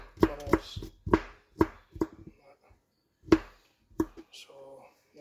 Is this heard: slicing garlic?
yes